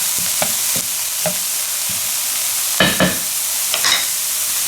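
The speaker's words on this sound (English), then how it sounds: "We're gonna throw in our 3 bay leaves directly into that heat." Soft, steady sizzle of three bay leaves dropped into a hot pot for kale and potato soup, with a few light clinks and stirring knocks scattered over the frying hiss.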